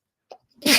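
A single sharp sneeze bursts out after a brief intake of breath, close and sudden.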